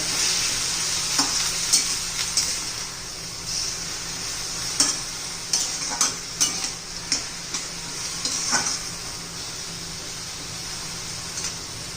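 Vegetables with fenugreek leaves frying in a pan give a steady, close sizzle, broken by a series of rhythmic clinks and scrapes as a spoon stirs and turns them.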